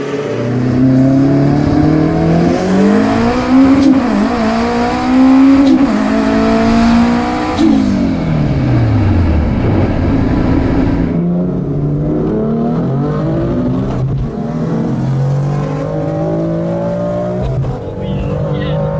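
A 600-horsepower Honda-powered Smart car called the KaterTot rips through a street race, its engine climbing loud and near through hard, rising gear pulls with shifts between, while people talk and shout alongside.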